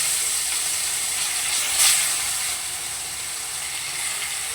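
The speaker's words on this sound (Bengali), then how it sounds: "মাছগুলোকে এবার ভেজে নেব। তেলটা গরম হয়ে গেছে।" Fish fry in hot oil in a wok with a bright, steady sizzling hiss. A sharper spatter swells briefly near the middle and then settles back to a constant crackle.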